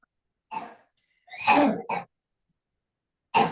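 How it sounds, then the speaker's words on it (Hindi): A young boy coughs in short, separate bursts indoors: one cough, then a tight cluster of two or three, then another after a pause, moderately loud with silence between. "मेरे बेटे उसको थोड़ा खांसी हो गई है, तो बीच बीच में उसका थोड़ा बैकग्राउंड म्यूजिक रहेगा"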